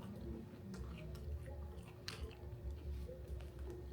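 Crispy fried corn fritters being chewed close up, a steady soft crunching and munching with small bites throughout, no talking.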